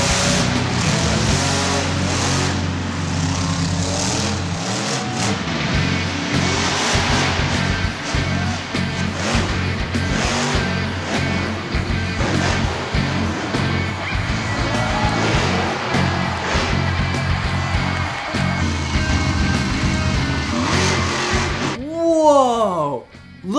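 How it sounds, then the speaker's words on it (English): An orange monster truck spins, its engine revving hard and near in a loud, continuous roar that rises and falls, with a voice speaking over it at times. "Look at that monster truck! It's orange! And do you see what it's doing? It's spinning!"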